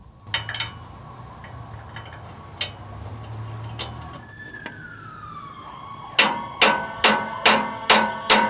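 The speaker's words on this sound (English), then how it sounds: "I'm going to hammer a 16mm 12-point socket on both fasteners" Sharp metallic hammer strikes ring out as a 16mm 12-point socket is hammered onto rusted exhaust manifold nuts of a 2004-2012 Mitsubishi Galant 2.4L, a few scattered hits, then six loud, evenly spaced blows.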